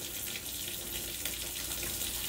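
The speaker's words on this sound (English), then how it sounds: "We got to get our hands good and wet, right?" A faucet runs steadily into a sink as children wash their hands, a continuous, moderately faint hiss of flowing water with no talking over it.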